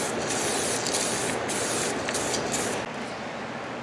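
An aerosol spray paint can hisses in a long, steady burst while laying a coat on a motorcycle fairing for a drag bike, loud and close, easing slightly near the end, with no talking.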